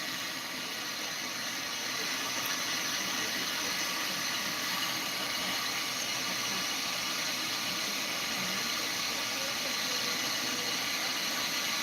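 A ratchet socket wrench loosens car shock absorber bolts during a front shock and lower control arm replacement, giving a steady, continuous mechanical clicking under a dense noisy background for the whole stretch.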